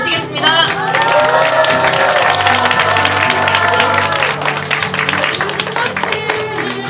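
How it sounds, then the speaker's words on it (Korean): A dense crowd claps loudly and steadily, with some cheering, at the opening of a Progressive Party by-election candidate's campaign office in Jungnang-gu, Seoul; sustained tones run beneath the applause. "큰 박수로 모시겠습니다."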